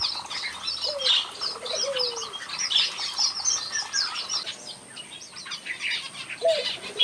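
A mixed flock of small, colorful finches in a huge aviary chirps and tweets continuously, with bright overlapping calls and occasional lower whistles, plus soft wing flutters throughout.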